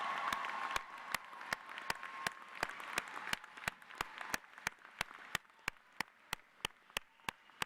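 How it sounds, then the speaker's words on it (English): Audience applause at a 2016 graduation ceremony, a dense wash of many hands clapping that thins out over several seconds, with regular sharp click-like peaks continuing through to the end. "give these people a rousing round of applause"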